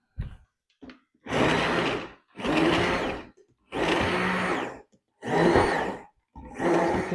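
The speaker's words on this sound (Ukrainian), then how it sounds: "І усе переб'ю блендером" A blender whirs through a marinade in five short bursts, each lasting about a second, with quiet pauses between them; no talking.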